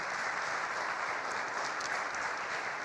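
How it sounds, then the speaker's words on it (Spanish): Steady, even applause from a conference audience seeing off a speaker after a talk on video tracking data, a continuous moderately loud wash with no voices. "Despedimos a Pedro Nogueira otra vez con un aplauso."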